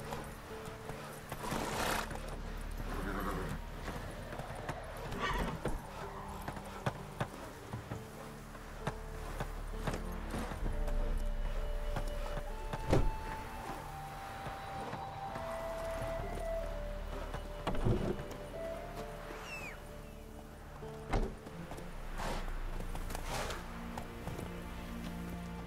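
Hooves of Roach, a horse in The Witcher 3 video game, clip-clop at a steady walk over a continuous game soundscape with music, with occasional snorts or whinnies and brief louder thumps.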